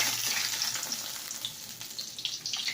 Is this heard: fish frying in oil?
yes